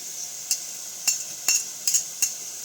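Ginger paste is stirred into browned frying onions, with five quick scraping clinks of a utensil against the pan over a soft, steady sizzle.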